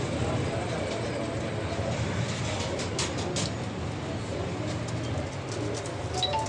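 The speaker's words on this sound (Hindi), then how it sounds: "आला क्वालिटी के कबूतर हैं और बिल्कुल मुनासब कीमत में भाई जान" Golden pigeons coo in a pigeon seller's loft in Lahore, soft repeated calls under constant loud rushing background noise, with faint chirps near the middle.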